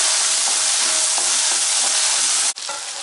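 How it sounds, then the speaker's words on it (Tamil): Turkey berries sauté in sesame oil in a kadai, giving a loud, dense, continuous sizzle up close that cuts out abruptly for an instant before resuming. "இதை வந்து கடாயில் எண்ணெய் சேர்த்து நல்லா வதக்கிக்கலாம்"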